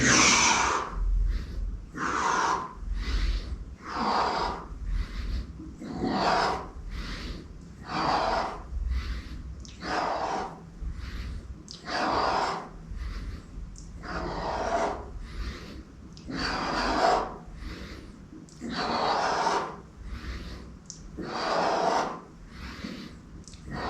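Heavy, controlled breathing during a pull-up exercise, loud and close, with regular forceful inhales and exhales repeating steadily with no talking.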